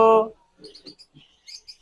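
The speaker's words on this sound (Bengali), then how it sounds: "এবার আমরা কথা বলি টিয়া পাখিটা নিয়া" A pet parakeet at a bird shop gives a few short, sharp chirps and squeaks after a brief human vocal sound, close and clear with quiet gaps between calls.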